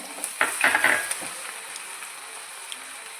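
Crushed ginger and garlic for beef pickle frying in a pan, with a soft sizzle and a few stirring scrapes early on that fade into a quieter, steady hiss.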